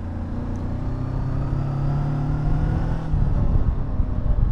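A Hunter Maverick 500cc motorcycle climbs a steep road in second gear, its loud, close engine droning steadily with a low rumble that strains and rises slightly toward the end, with no talk.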